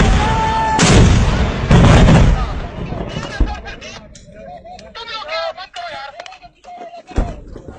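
Heavy artillery guns fire in two loud, booming blasts near the start, followed by rumbling aftermath with people talking over the scene and a later sharp report.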